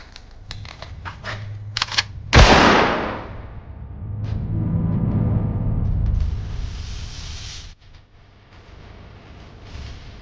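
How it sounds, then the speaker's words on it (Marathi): A single loud, sharp gunshot in a Marathi horror web series cracks out close by, followed by a rumbling decay, among scattered clicks and background noise. "आता गोळीबार का असत झाला"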